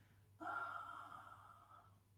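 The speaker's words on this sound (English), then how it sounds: "Exhalation." A slow, breathy exhalation during a shiatsu stretch with the arm reaching back, starting abruptly and tapering over about a second and a half, soft and close, with a low steady hum underneath.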